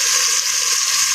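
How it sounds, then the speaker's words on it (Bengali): Pangas fish frying in a pan, a loud, even, continuous sizzle heard up close, with no voices. "ভাজা হতে থাক, মাছগুলো দেখতে থাকুন।"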